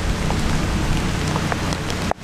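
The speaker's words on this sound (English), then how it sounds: "Oh, it's raining again." Steady rain falling on a surface the morning after Hurricane Ida, at a bee yard with the power out, a dense continuous patter with scattered nearby drips, cut off abruptly at the end.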